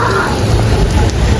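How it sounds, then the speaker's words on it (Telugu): Rain resuming on Mackinac Island, a loud, close, dense patter and wash of falling water lasting only a moment. "మళ్ళీ వర్షం స్టార్ట్ అయింది."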